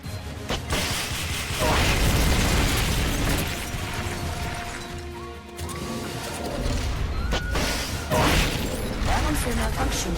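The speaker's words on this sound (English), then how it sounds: "Firing rocket launcher." A rocket launcher fires and its rocket explodes in the Peace Walker video game, heavy booming blasts and mechanical clanks that rumble loudly through the whole stretch, with a second big burst near the end.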